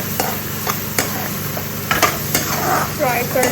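Onions frying in a pan in a home kitchen, a steady sizzle punctuated by spatula clanks and stirring scrapes against the pan, with a voice speaking briefly nearby.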